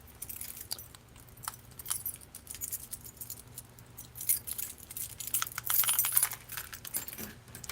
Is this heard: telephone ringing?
no